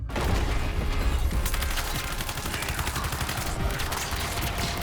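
Sustained artillery gunfire in Suicide Squad: Kill the Justice League, a loud, rapid barrage of shots that continues throughout amid layered combat noise.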